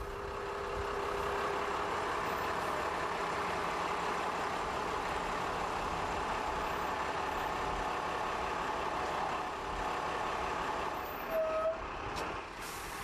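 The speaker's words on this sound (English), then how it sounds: "rather than me unhook the Bowser, pushing it into position, risking the chance of serious injury to my back, I'm going to let the air truck take the strain" An air truck idling and maneuvering a water bowser into position, a steady loud engine rumble with a brief hiss of air near the end, no talking.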